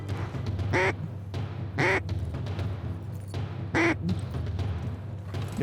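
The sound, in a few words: mallard ducks quacking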